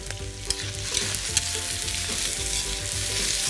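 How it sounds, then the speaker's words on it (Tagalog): Onion, garlic, carrots and potatoes fry in a generous amount of oil in a hot pan, giving a steady, close sizzle with scraping stirs and a few sharp clanks of utensil on metal. No one speaks. "hot pan, generous amount of oil, and then pagsasama-samahin ko na yung ating sibuyas, bawang, carrots, at saka patatas"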